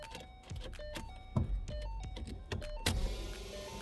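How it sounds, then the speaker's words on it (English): Electric fuel pump on a V6 Ford Mustang (S197) priming after the key is turned, a steady motor whine with a few clicks and clunks around it, close by with no talk. "you can hear the pump running"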